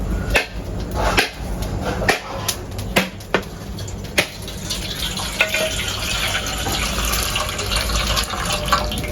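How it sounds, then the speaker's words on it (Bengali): A coconut being cracked open while rice roasts nearby for Lakshmi Puja sweets: a string of sharp, close knocks at uneven intervals, with a wet splashing backdrop as the coconut water runs out. "এদিকে আমি নারকেলটা ফাটিয়ে নেবো"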